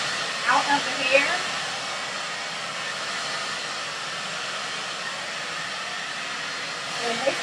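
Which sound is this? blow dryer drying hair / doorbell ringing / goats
blow dryer drying hair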